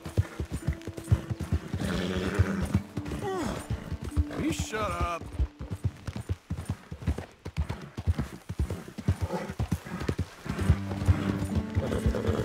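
Horse hooves clip-clop steadily in the Red Dead Redemption 2 video game, with a brief whinny in the mix, while a voice talks over the rhythmic trotting.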